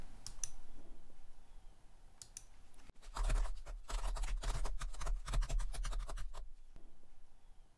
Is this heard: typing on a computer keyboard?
yes